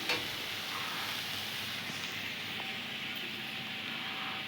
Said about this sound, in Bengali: তারপর দেখো আমি ওগুলো কি ভেজে নিচ্ছি।